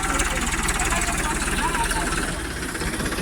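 A tractor engine idles up close with a loud, steady low chugging rhythm that continues throughout.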